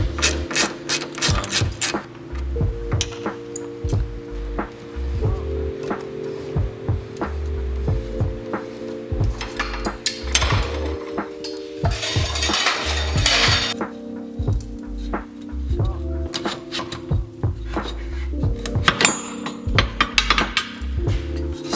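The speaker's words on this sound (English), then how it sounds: "to undo this, it's just a 10mm socket on this end," A 10mm socket on a ratchet undoes the headlight leveling sensor arm at the rear of a BMW M3 or M4, with steady close clicking and ratcheting plus metallic clinks over a low background hum.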